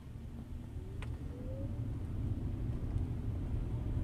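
A steady low road rumble inside a moving car on a drive through Crow Canyon toward Dublin. It swells slightly as it goes, with a faint passing whine and no talking.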